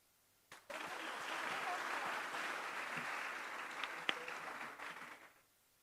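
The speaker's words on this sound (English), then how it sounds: "give applause to them" A conference audience bursts into applause that holds steady for about five seconds, then tapers off, with no talk heard over the clapping.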